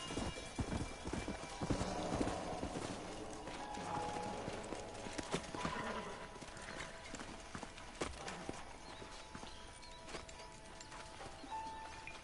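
Steady clip-clop of horse hooves on hard ground in the video game Red Dead Redemption, continuous and moderately loud, with a busy background of wind and rumble.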